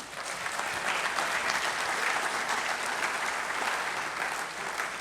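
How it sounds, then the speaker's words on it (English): An audience applauding steadily at a high school honors convocation, dense clapping filling the room at an even loudness for several seconds before easing slightly at the end. "Let's give them a round of applause."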